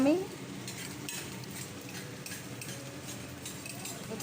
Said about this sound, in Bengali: আমি ভালো করে ভেজে নিচ্ছি।